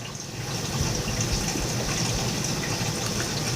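Aquarium filter for a discus tank switching on, a steady close wash of flowing, gushing water running continuously without a break.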